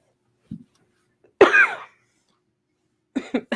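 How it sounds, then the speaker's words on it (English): A single sharp, loud cough stands out after a brief faint sound, followed by a pause and a few quieter throat noises near the end. "I coughed in my arm, guys."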